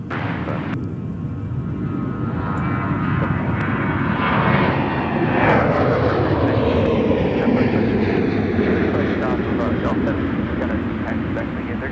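A Sun Country airliner roars down the runway on takeoff at Minneapolis–St. Paul airport, its engine noise swelling loud and broad and then slowly fading, with radio voices talking over it.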